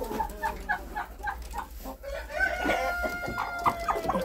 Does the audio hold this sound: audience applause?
no